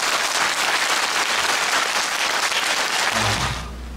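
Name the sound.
audience applause welcoming a singer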